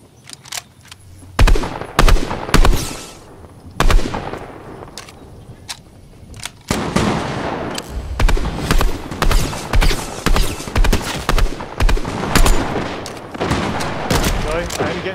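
Gunfire in Fortnite: loud bursts of shots arrive in clusters, some single cracks and some rapid volleys, with a player talking over parts of the fighting.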